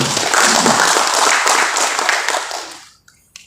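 Dense audience applause at a forum discussion in Senayan, greeting Ahmad Doli Kurnia Tanjung, chair of Indonesian House Commission II. The clapping is steady and full for nearly three seconds, then thins and fades out, with a last stray clap.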